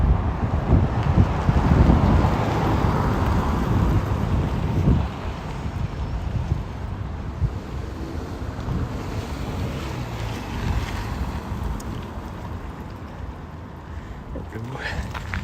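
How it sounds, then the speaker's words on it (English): Strong gusty wind buffets the microphone of a runner on city streets, a loud continuous rumbling roar with no words spoken. "gosh dang, that wind is chilly."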